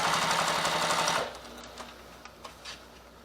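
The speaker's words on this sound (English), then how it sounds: "make sure that this other piece is laying flat as you're sewing around," A sewing machine runs in a fast, steady stitching burst while sewing a fabric shoulder bag, then stops after about a second, leaving faint handling clicks.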